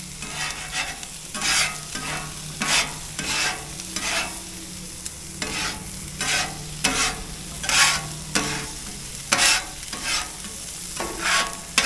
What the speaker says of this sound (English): Let's just get the eggs going here.